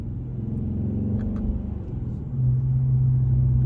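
A truck rolls past on a city street, heard from inside a 2020 Dodge Charger R/T: a low, steady rumble that swells and deepens into a heavier engine drone toward the end, close by, with no talking.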